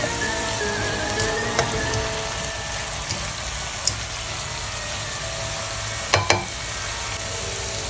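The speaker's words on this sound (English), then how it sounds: "Now we are adding spinach, mixing it well and cook for another 5 minutes." Spinach sizzles in a hot pan while being mixed for homemade dog food, a continuous frying hiss with a few sharp utensil clicks and taps near the end.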